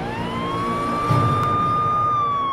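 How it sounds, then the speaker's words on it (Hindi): An ambulance siren wails in a steady, loud tone from close behind, its pitch holding and slowly rising over a low rumble of traffic. "तोहरे पीछे एम्बुलेंस आ रही है"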